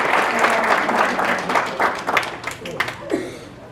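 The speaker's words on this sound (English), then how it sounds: "Give yourself a round of applause." An audience at a county school board excellence awards ceremony breaks into applause, dense clapping that thins into scattered claps and fades toward the end.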